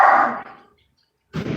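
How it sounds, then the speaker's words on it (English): Dogs at a home in Davao City bark loudly for about half a second, then go quiet for a moment before another burst of barking starts at the end. "My dogs are going mad again."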